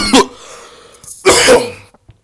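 Two sharp, loud coughs close to the microphone, separated by a short pause, with a faint breath at the end.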